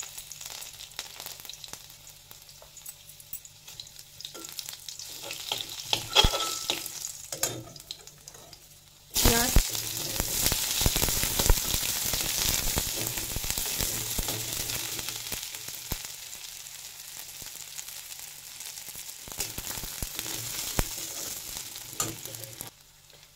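Dal tempering with dried chillies and garlic frying in hot oil: a soft background hiss, then a sudden loud sizzle that keeps crackling steadily, heard close in a home kitchen with faint clatter before it.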